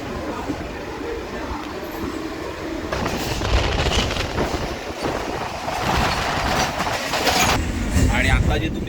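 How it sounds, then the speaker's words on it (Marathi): Rumbling rail noise from a Mumbai local train as another train passes close by, steady broadband roar with rising clatter and swells of wheel noise through the middle and end, no clear speech over it. "हे बघा समोर ट्रेन पण येते"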